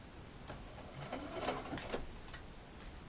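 A sewing machine stitching bias binding onto a curved fabric seam runs steadily up close, its motor whirring in a continuous hum with slight rises as the speed changes.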